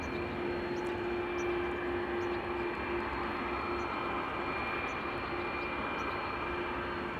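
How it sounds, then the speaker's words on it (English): An Aer Lingus airliner takes off from Amsterdam Schiphol, heard as a constant, moderately distant engine rumble with a thin sustained whine riding on top, unbroken throughout and with no talking. "as Aer Lingus takes to the skies"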